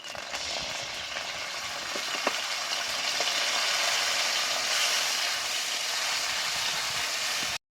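Ginger and tomato paste fry steadily in a pan in a village kitchen, a constant close hiss and sizzle with a faint tap or two, no talking.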